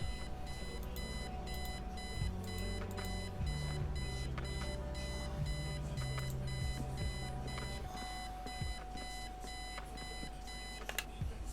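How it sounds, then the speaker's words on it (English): An alarm clock rings on and on in the Kathy Rain adventure game, a steady electronic beeping pattern repeating for the whole stretch over a low musical backdrop. "I set the alarm so you won't miss the funeral."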